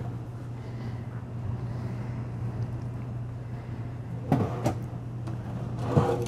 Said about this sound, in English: So two really deep slide out trays here, slide out drawers.